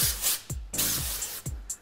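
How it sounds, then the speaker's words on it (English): Hair texture spray hisses from an aerosol can in three short, close bursts, each a bright sharp spritz with a soft tail, separated by brief pauses during a salon up-do styling. "I know you use some texture spray, so just going to spray that down through that back section."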